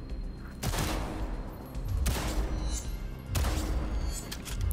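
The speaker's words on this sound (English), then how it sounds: "Oh, I accidentally double shot just then." Gunshots at a target in Cyberpunk 2077, with three separate loud blasts spaced roughly a second or more apart, each trailing off into a rumbling echo with no talk over them.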